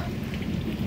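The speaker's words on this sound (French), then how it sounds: "moi pour montrer nous comment la pluie tombe en pile" Heavy rain pounds steadily on a pick-up truck, a dense, even hiss of drops close by with no break in its constant roar.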